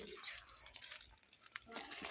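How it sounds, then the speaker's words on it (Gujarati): Water splashes and trickles steadily onto garden flowers and plants, a close, continuous broadband wash with small spattering bursts and no voices over it. "મસ્ત પાણી નાખ્યા ફૂલોમાં બધે નાખીશું"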